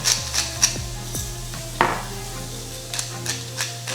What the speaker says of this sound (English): we're just gonna kind of whisk this up until we get a nice, even texture here